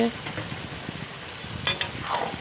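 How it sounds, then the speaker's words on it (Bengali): Chicken frying in oil with potatoes and onions in a wok, a steady close sizzle with a couple of sharp bursts of crackle and spatter near the end. "কড়াইতে তেলের মধ্যে আলু পেঁয়াজ একসাথে ভেজে নেওয়া হলো তারপর চিকেনটাকে ঢেলে দেওয়া হয়েছে"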